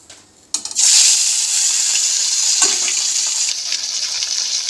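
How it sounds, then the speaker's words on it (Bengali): Fish dropped into hot oil erupts into a loud, close, continuous sputtering hiss after a brief quiet moment, with bursts of crackle that ease slightly toward the end; no voices. "এই যে এখন মাছটা ভাজা হচ্ছে বাবা ফটফট করে ফুটছে"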